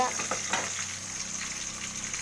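Urad dal and large garlic cloves fry in oil in a pan while being stirred, a soft continuous sizzle with a few scraping stir strokes near the start, fairly quiet and close.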